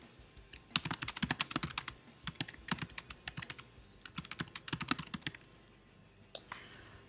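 Fast, steady typing on a computer keyboard while filling in feedback details in an app, with dense clusters of crisp key clicks, a short pause in the middle, close and moderately quiet, no speech.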